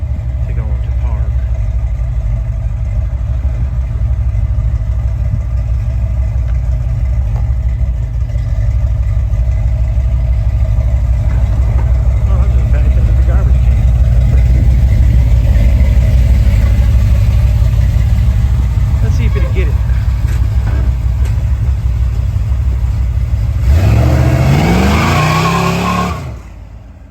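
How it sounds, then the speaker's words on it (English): A small block Chevy engine idles steadily in a low, loud, even rumble for a long stretch, then revs briefly near the end, with people talking over it. "I don't know exactly what the motor is. Small block Chevy."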